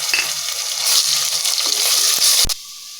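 Ginger garlic paste fries with browned onions in a pot for mutton biryani, a loud, close, hissing sizzle that fades abruptly near the end after a knock.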